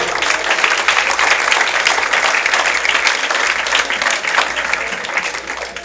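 A church congregation breaks into loud, continuous applause during a sermon, a dense wash of many hands clapping steadily for several seconds without speech over it.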